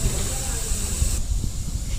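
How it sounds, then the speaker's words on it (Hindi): A steady, loud hiss of air escaping from a large size-31 vehicle tyre being deflated. It continues throughout and eases slightly partway through, with a voice faintly underneath. "तो अभी हवा निकाल रहे हैं, बड़ा टायर है, टाइम लगेगा निकलने में।"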